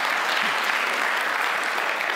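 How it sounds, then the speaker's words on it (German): Dense, steady applause from a church audience during a talk about the Bible, a continuous wash of many hands clapping at full loudness with no voice over it. "Jawohl, hat einen Applaus verdient."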